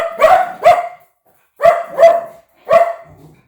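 Dogs bark close and loud in three quick pairs of sharp woofs separated by short pauses, with no talking.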